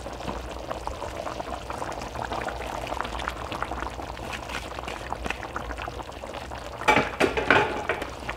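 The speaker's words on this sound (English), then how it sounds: "Once that's been simmering a bit more, get it nice and bubbly." Thai red curry simmers in a pot, a steady dense bubbling that holds through the whole stretch, swelling into a louder burst of pops and gurgles near the end.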